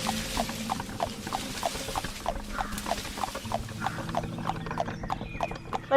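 Steady, rhythmic hoofbeats come from a horse pulling a tonga cart, a continuous, fairly quiet clip-clop with no voices.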